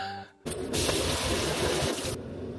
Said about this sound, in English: Let me go shower